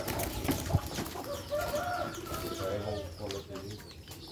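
A zebra dove (perkutut) coos softly a few times in a low, rolling rhythm amid a noisy outdoor background with faint voices.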